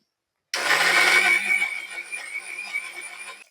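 A kitchen mixie grinder grinds ingredients for egg curry. It starts abruptly and runs as a loud, steady, high-pitched whir that eases slightly as the grinding continues, with no talk.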